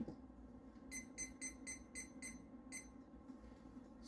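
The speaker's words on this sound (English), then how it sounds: "So there we go with the timer." A kitchen timer beeps in a rapid series of about seven bright, evenly spaced electronic beeps, fairly faint over a low background hum.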